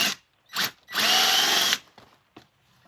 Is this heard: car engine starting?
no